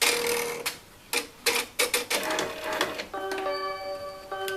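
An embroidery machine finishes a satin stitch, producing a series of sharp mechanical clacks and bursts, uneven at first, then settling into a steady whirring hum with ringing tones near the end.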